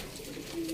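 A rescued pigeon in poor condition, unable to stand, gives a brief, faint coo at close range, with no talking.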